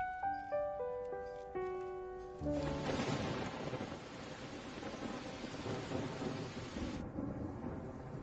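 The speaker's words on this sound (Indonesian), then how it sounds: "Kok hujan?" Heavy rain hisses steadily while thunder rumbles low and long, the storm surging in loud after a calmer opening and holding strong before easing slightly near the end; no talk.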